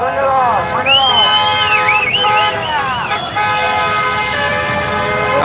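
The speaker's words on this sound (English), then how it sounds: "Honk your horn, support your driver." Car horns honk at an Uber driver strike in Los Angeles, several horns overlapping in long and short toots, loud and close over street noise and chanting voices.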